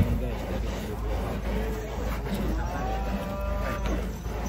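Simmental cattle lined up at a cattle contest in Jember low out with a long moo over a steady crowd and engine murmur; the call rises and holds for a couple of seconds amid outdoor background noise and faint voices.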